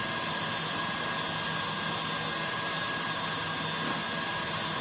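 Electric hand mixer whisking egg whites at a faster speed toward stiff peaks for a pavlova, a steady whirring motor hum with broad airy noise, constant and close throughout with no talking.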